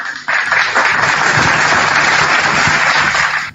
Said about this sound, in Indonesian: Tepuk tangan pula.